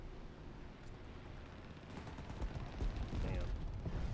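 Video game gunfire in a dogfight, with rapid bursts of shots crackling continuously through the clip and growing louder toward the end, mixed with game noise and faint talk underneath.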